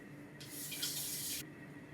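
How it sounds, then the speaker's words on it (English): A kitchen tap runs into a sink for about a second while hands are washed, a faint steady hiss of water set against quiet room tone. "I need to wash my hands"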